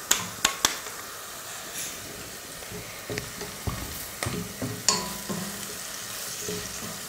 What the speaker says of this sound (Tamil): சேர்த்துட்டு அதை ஒரு நிமிஷத்துக்கு நல்லா வதக்கி விட்ருங்க